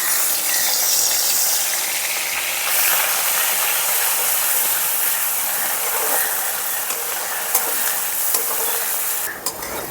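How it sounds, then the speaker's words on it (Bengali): Onion paste frying in oil with bay leaf, dried red chillies, whole cumin and a spice blend, sizzling steadily and loudly at close range throughout, with occasional scrapes and clinks of stirring near the end. "পেঁয়াজটা একটু ভেজে নেব যাতে কাঁচা ভাবটা একটু চলে যায়।"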